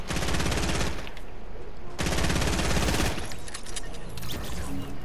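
A P90 in the Fortnite video game fires in two long, rapid automatic bursts, loud and close, with brief pauses between them and faint talk in the gaps.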